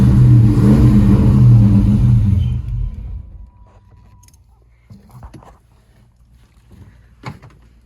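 A Foxbody Mustang engine revs loud and close for almost three seconds, then drops to a low idle rumble with a few faint blips; the car is running on old gas.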